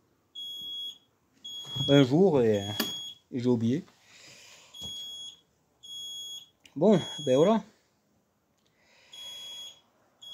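A smoke detector emits high, piercing electronic beeps in short bursts, while someone talks loudly in French between and over them in a quiet indoor space.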